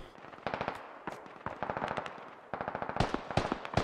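Distant gunfire in the video game SquadOps, rapid automatic bursts repeating in several volleys across the span, steady and fairly loud, with no voices.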